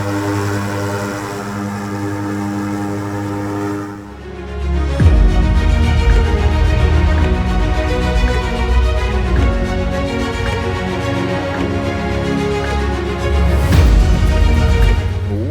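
Carenado Diamond DA62 propeller aircraft departing EGKA in the P3Dv4 flight simulator, a continuous droning engine and propeller hum that deepens and grows louder after a brief dip, steady and close with no voices.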